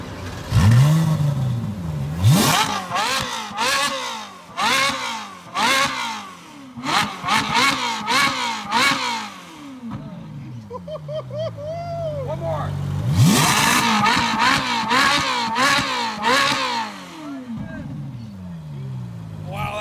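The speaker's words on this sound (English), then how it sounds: "Ferrari Speciale, naturally aspirated V8" A Ferrari Speciale naturally aspirated V8 revs loudly in repeated bursts, rising and falling sharply, with brief quieter gaps between blips and a long climbing rev near the middle.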